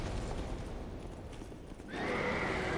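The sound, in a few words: horse neighing in a video game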